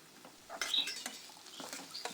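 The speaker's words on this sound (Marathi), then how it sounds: "यांना मोठ्या गॅसवर छान परतून घ्या." Chopped carrot, capsicum and beans stir-fried over high heat in a pan, with close, quiet scraping and clinking of a spatula against the pan in short irregular strokes.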